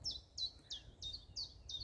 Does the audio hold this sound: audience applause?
no